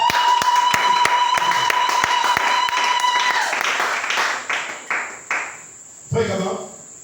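A church congregation claps steadily in a loud, sustained round of applause with a sharp ringing tone running beneath it, then the clapping thins to a few scattered claps before a voice speaks.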